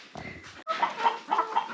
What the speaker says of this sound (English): So all the chickens are coming over, and we'll see what they think.